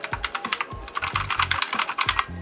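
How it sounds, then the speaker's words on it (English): Rapid keystrokes on a Redragon K551 mechanical gaming keyboard, close and crisp, in short uneven bursts of clicky presses with brief pauses between them. "you're getting a mechanical keyboard"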